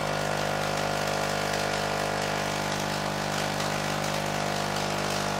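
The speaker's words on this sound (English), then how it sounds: "So it's a nicely developed Fractal Fern discharge." A high-voltage Fractal Fern electrical discharge running at about 500 watts gives a steady, dense buzzing hum with a constant low drone and a bright hiss, loud and unbroken throughout with no talking.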